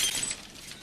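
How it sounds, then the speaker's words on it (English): A glass coffee table dropped from a 20-story building shatters on impact, a brief, bright burst of breaking glass with tinkling shards that fades within a second. "Now a stylish glass coffee table."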